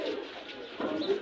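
Pigeons coo at a crowded pigeon market in Bangladesh, with soft low throaty calls repeating over a murmur of background activity.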